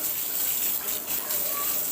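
Strong water gushing from an opened ablution tap, a loud, continuous broadband hiss with no breaks, close by.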